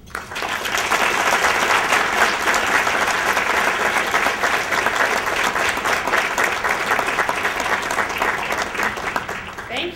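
A conference audience gives a warm welcome to speaker Dana Perino with sustained applause. The clapping is loud and dense, holds steady for about nine seconds, then thins out near the end.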